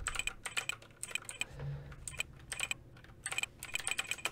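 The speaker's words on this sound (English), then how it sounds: "You just type sandbox" A computer keyboard clacks in quick bursts of keystrokes, close and crisp, with short pauses between runs and no voices over it.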